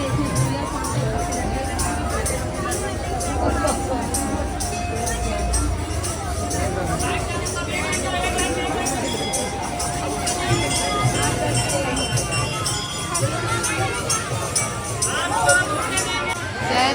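A dense crowd mills around a Jagannath temple during Rath Yatra, a constant close-up hubbub of many overlapping voices, footsteps and movement with no pauses.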